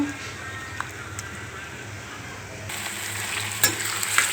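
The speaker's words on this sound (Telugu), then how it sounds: "ఉల్లిగడ్డ టమాటా ముక్కల్ని మరొకసారి కలుపుకోవాలండి" Onion and tomato pieces stirred in a pan for egg curry, a steady soft scraping and faint sizzle with occasional spoon clicks against the pan, close and moderately quiet throughout.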